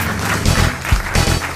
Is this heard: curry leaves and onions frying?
no